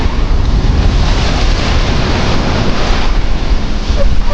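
Ocean waves crash onto a beach by the sea in a steady, loud, continuous roar, with wind buffeting the microphone and no voices heard.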